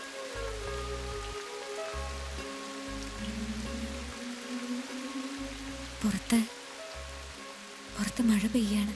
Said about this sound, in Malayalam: പുറത്ത് മഴ പെയ്യാണ്